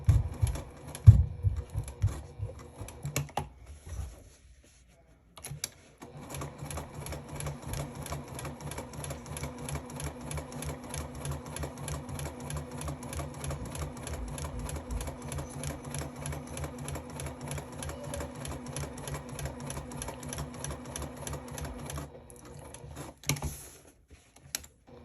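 Sewing machine stitching fabric with pins set along a center line, a steady rapid mechanical rhythm running for about sixteen seconds, preceded and followed by short bursts and handling clicks, close and alone.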